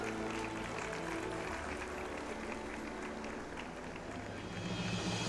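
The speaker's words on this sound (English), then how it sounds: "A huge round of applause, audience." Applause from the audience at an annual day and awards ceremony stage function, a fairly distant, steady wash of clapping with a low hum underneath, continuing throughout.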